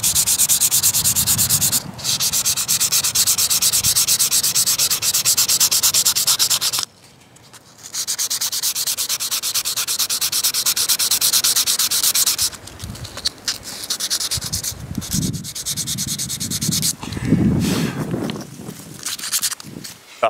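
Close, scratchy sanding strokes on 150-grit sandpaper rub rust off the back of a vintage pocket knife, in continuous bursts with a short pause partway through and irregular, softer rubbing toward the end.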